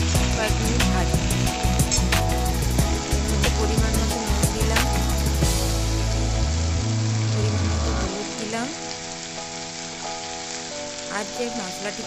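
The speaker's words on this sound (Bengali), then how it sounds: "তেল গরম হলে এর মধ্যে আমি কেটে রাখা বরবটিগুলো দিয়ে 2 মিনিট ভাজলাম" Yard-long beans and potato pieces fry in hot oil in a pan, giving a loud, steady sizzle with stirring clatter. The sizzle drops to a softer, even crackle partway through.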